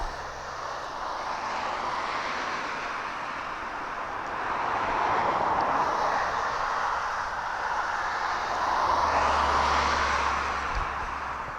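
Fixed-wing aircraft engine noise at East Midlands Airport, a steady broad roar that swells gradually, holding loud and continuous throughout with no talk over it.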